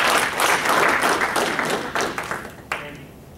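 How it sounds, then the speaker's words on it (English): A round of applause breaks out at a student government senate meeting, a modest group clapping steadily before tapering off to a few last isolated claps. "It's actually giving him a round of applause."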